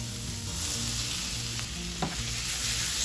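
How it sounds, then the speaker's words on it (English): Sweet pepper and onion stir-fry in a hot pan with a steady, bright sizzle, broken by scraping stirs and one sharp clack of the utensil against the pan, close and without talk. "Stir fry the sweet pepper and the onion."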